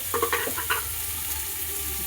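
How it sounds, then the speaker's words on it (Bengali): Onions, carrots and peas frying for momo filling, a few quick scraping stirs over a steady close sizzle, no speech. "গাজর পেঁয়াজটা একটু ভাজা ভাজা হোক।"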